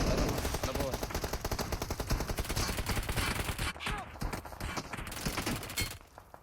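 Rapid bursts of automatic gunfire in PUBG Mobile, dense and continuous, then tapering off near the end with a brief pause.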